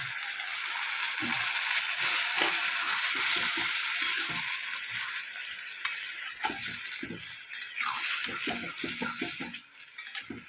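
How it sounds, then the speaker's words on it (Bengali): Okra and potato masala sizzling and spitting in a pan after a splash of water is added, a steady hiss with scattered stirring scrapes and small pops, close and fairly quiet, with no talking. "এবার আমি অল্প একটু জল দিলাম"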